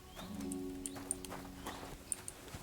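Horse hooves clip-clopping at a walking pace in the medieval game Kingdom Come Deliverance 2, a steady muffled rhythm with a few sharper knocks and no talk.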